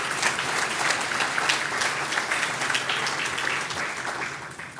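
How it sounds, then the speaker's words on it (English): Dinner guests at the Coin Center Annual Dinner applaud together, a full and even round of clapping from a room-sized crowd that carries on without pause and fades only slightly at the end. "Can we give them a round of applause?"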